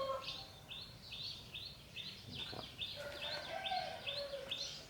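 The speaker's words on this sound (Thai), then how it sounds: "ฟังเสียงนก เสียงกาเสียงไก่" Birds in a leafy home vegetable garden, where crows and chickens are also about: a rhythmic series of repeated chirping calls, with other bird calls joining partway through, heard at moderate distance over faint outdoor background.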